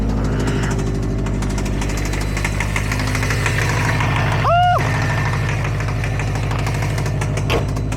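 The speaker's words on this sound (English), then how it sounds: "Not a happy sounding engine," A mice-infested Subaru WRX STI with engine knock at 4,000 miles idles loudly and steadily up close, with a rhythmic knocking running through the drone and a brief chirping whistle partway through.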